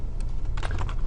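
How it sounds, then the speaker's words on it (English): Computer keyboard keys are typed in a quick burst, clicking close and clear with no talking over them, as a search is entered. "type in American Revolution and John"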